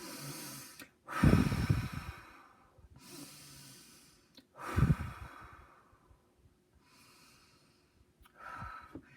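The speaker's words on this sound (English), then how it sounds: "So what I suggest is take your 3 deep breaths" Slow, deep breaths drawn in and let out by a person doing a calm breathing exercise, three heavy inhale-exhale cycles close to the microphone, each breath loud and hissing before trailing off.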